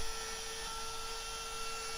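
A router with a circle-cutting jig makes a shallow pass into a wooden workpiece, giving a steady, loud high whine that holds without a break.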